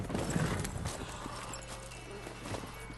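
A horse's hooves clip-clop in the video game Witcher 3 as it gallops, with a brief whinny and a steady rhythmic beat at moderate loudness under faint game ambience.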